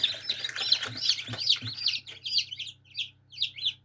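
High, rapid peeping from newly hatched chicks in a Teplusha Lux 72 incubator, a dense chorus at first then clearer separate cheeps, over a low steady hum.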